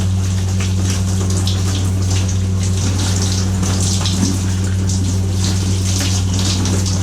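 Hot-water shower spraying inside a Sprinter camper van, a steady broadband hiss of falling water layered over a constant low pump hum, close and unbroken throughout.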